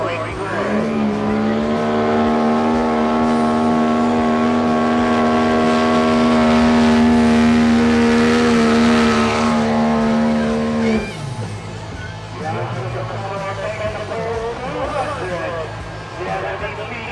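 A 1,000HP single turbo diesel truck, a 6.3, pulls under load with a loud, steady rising engine drone that holds for about ten seconds before dropping off, with a commentator's voice over it.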